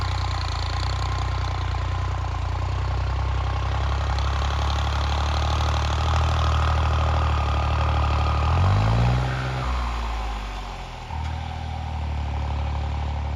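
A New Holland 3630 tractor pulls a thirteen-furrow plough with the lever fully down, its engine droning loud and steady under heavy load, the pitch sagging and recovering partway through as the revs drop.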